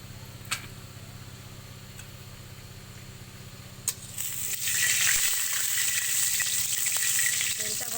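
A low mechanical hum with a couple of sharp clicks, then oil left from frying fish bursts into a loud, steady sizzle in a frying pan that continues to the end.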